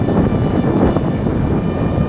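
Bixler V1.1 RC model airplane flying at night, its propeller and electric motor giving a steady, loud buzzing drone mixed with wind rush, continuous with no talking.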